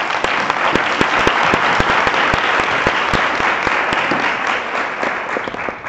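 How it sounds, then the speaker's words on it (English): An audience at the EPSA Annual Congress 2018 applauds a speaker after a presentation. Dense, steady clapping from a large crowd fills the whole clip with sharp individual claps standing out. "we can clap for Ruben"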